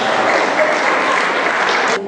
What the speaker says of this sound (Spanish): Aplauso, por favor, para la maestra.